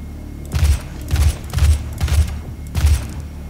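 Five heavy, booming gunshots from the 2016 Doom video game fire at an irregular pace, each a loud low-pitched blast with a short rumbling tail over a steady background drone.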